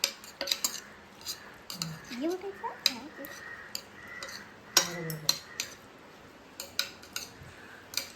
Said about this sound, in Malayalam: ഈ പൗഡർ ഇതാണ് നമുക്ക് മിക്സ് ആക്കാം